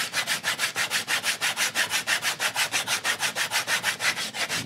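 Edges of leather saddle bag pieces being sanded with rapid, even back-and-forth strokes, a close, loud scratchy rasp pulsing about six times a second with no talking.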